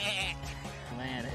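A voice imitates the bleat of a fainting goat, a single drawn-out nasal bleat lasting about a second, close and fairly loud.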